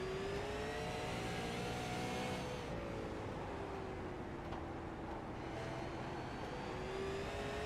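Race car number 95 at a Thursday night short-track feature, engine roaring hard into a turn with a steady, loud snarl that dips and rises as the throttle changes, other cars droning alongside.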